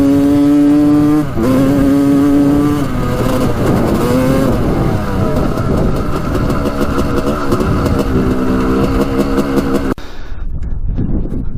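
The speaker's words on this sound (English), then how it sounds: "The bike is performing pretty well." Honda CR250 two-stroke dirt bike engine revving hard while being ridden, a loud, steady buzzing roar with rising and falling pitch as the throttle changes, close throughout and cutting briefly near the end.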